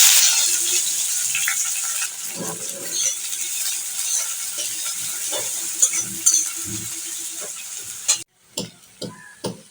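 Onions sizzle in hot oil in a pan for cooking chicken liver and gizzard, while a utensil scrapes and stirs in occasional bursts, the frying fading near the end.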